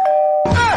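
A short electronic doorbell chime sounds indoors: a sustained clear tone followed by a brighter two-note ding-dong burst, loud and close, with no voices.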